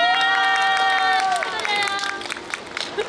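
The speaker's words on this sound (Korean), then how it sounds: "박수 한 번만 쳐주세요." A crowd at an outdoor stage concert in Seongnam claps and cheers briefly while a voice sings or shouts over it with strong, sustained tones.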